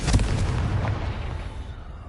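Fire spell Confringo exploding in the video game Hogwarts Legacy, a single loud booming blast at the start whose rumble fades away over the next two seconds.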